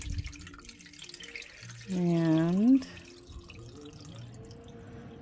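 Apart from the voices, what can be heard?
water poured over chicken in a pot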